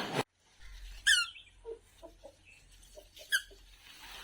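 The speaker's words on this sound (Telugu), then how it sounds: "కోడి గుడ్డు పెట్టింది చూడు" A hen squawks and clucks after laying an egg, with two loud sharp squawks standing out over a steady low hum, plus scattered quieter clucks in between, close by and with no talking.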